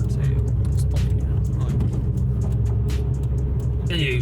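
A Nissan Silvia S15 Spec-R engine hums and rumbles steadily from inside the car while driving, a low drone under ongoing conversation from the occupants.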